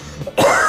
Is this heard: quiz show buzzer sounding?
no